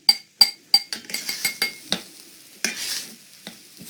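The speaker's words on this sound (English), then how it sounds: "We'll go ahead and mix up our dry spice mix." Dry spice mix for a vegan tofu scramble being stirred in a small bowl or glass, a series of crisp clinks and taps in an uneven rhythm, close and alone.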